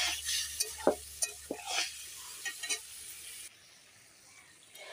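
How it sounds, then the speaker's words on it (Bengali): Broccoli curry being stirred in a cooking pan, with a few distinct scraping strokes over a soft sizzle that cuts off into near quiet. "ঢাকাটা খুলে নিয়ে দেখো একটু ভালো করে নেড়ে নিলাম।"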